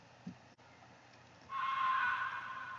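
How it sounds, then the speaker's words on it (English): A free Reflect Audio plug-in scream effect for a heavy beat bursts in after a quiet stretch, a sustained harsh, bright wail holding steady to the end. "I took a scream effect"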